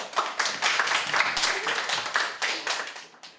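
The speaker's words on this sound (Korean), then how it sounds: "박수 한번 치시죠." Audience at an internship presentation event claps in a dense burst of many hands for about three seconds, fairly close and steady, then tapering off at the end.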